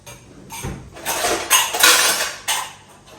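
Dishes, pots and metal utensils being handled during kitchen washing-up, with a series of close clattering clinks and scrapes in irregular bursts, heard alone without talk.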